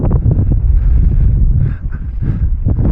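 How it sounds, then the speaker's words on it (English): Strong wind in the Sahara desert buffeting the microphone, a loud, steady low roar with rough gusty surges throughout, with no voices. "it's very windy"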